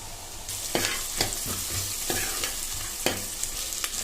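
Peas and onions frying in a pan, a dense continuous sizzle close up, punctuated by several regular scraping spatula strokes.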